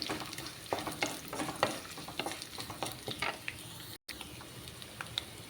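Small garlic cloves and red chillies frying in a pan for Telugu thotakura pappu, a low steady sizzle with frequent crackling pops and light stirring taps, one brief dropout midway.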